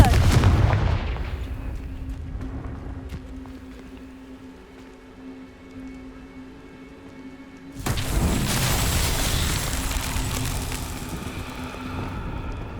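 A Confringo blasting spell fires in Hogwarts Legacy, a loud burst at the start, then a quieter spell lull, then a second strong roaring blast that lingers over the rest.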